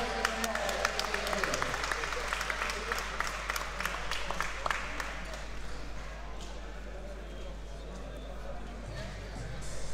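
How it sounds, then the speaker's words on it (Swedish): Applause from the audience at a Frontier MMA Open mixed martial arts gala in Rosengård, Malmö, as the decision is announced: a burst of clapping early on that thins and fades, mixed with crowd noise and a voice talking over it. "Stor applåd, självklart."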